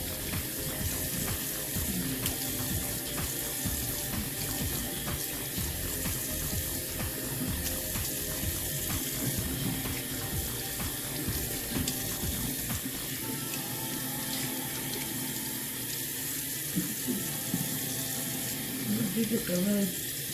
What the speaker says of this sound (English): So I'm just going to rinse this off. I use this lukewarm water.